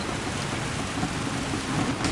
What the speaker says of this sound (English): It's raining here at the moment, so yeah.